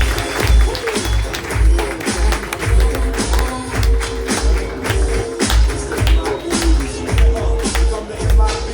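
An open-mic comedy audience claps and applauds as the next comedian takes the stage, a loud, busy patter of clapping with rhythmic thumps underneath and some voices mixed in.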